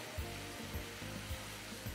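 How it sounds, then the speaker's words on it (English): Ingredients with black pepper sauteing in a pan for a Lomo Saltado or Rendang dish, giving a steady close sizzle and hiss with a few soft bumps of stirring and no talk. "We can saute the all ingredient until the fragrance out."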